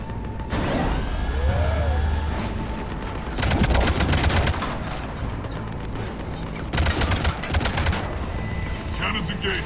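Mass Effect 3 combat plays out with dense bursts of rapid gunfire and heavy cannon blasts, loud and close, alternating with sweeping sci-fi mechanical whines and rumbling impacts.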